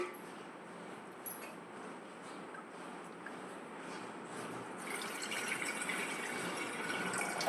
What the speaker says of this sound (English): Let us add some water into it.